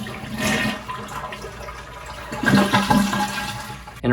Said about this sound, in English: Next, what we'll do is flush the toilet. We are going to push down on the handle and hold.